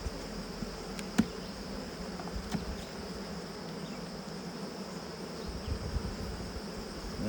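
Honey bees hum steadily around brood frames pulled from a backyard hive in its fifth year, a continuous close buzz with a few brief louder passes and no talking.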